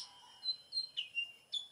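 Oriental magpie-robin (kacer) singing: several short, bright whistled chirps in quick succession, clear and fairly close against a quiet background.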